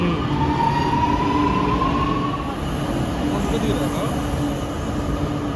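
A metro train at the Chennai airport metro station rumbles loud and steady from close range, with a faint squeal of wheels rising over the low roar and voices talking beneath it.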